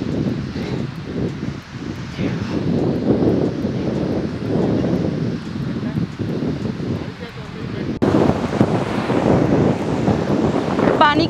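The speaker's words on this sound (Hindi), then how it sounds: "पानी की इतना तेज आवाज़ है ना, शायद मुझे नहीं लगता है कि मेरी आवाज़ आप लोगों के पास पहुँचेगा।" Loud monsoon-season sea waves crash at Calangute beach, Goa, as a continuous close roar, heavily buffeted by wind on the microphone, with voices talking over it.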